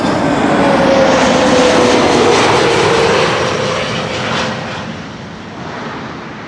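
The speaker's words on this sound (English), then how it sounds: "This is KLM flight 1502, arriving from Madrid. One of the A321neos from KLM." A KLM Airbus A321neo jet arriving at Amsterdam Schiphol Airport, a loud broad engine roar with a thin whine that gradually fades as the aircraft passes, with no talking.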